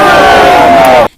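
Supporters at a campaign rally in Uganda cheering and shouting loudly in a dense, continuous crowd roar that cuts off abruptly.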